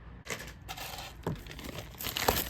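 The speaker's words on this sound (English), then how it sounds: "I'm going to put that in a plastic bag." A long craft macrame piece is stuffed into a plastic bag, giving close crinkly rustling in several bursts with sharp crackles, and no talk.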